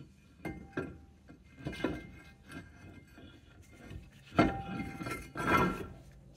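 A new brake rotor for a 2013 Tesla Model S is handled during a front brake job, giving a series of sharp metallic clinks and knocks spread unevenly over the quiet space between them.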